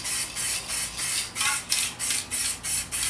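Aerosol can spraying silver metalizer Plasti Dip onto a stock Audi B8 S4 wheel: about ten short, even hissing bursts in steady rhythm, close and fairly loud, with no talking.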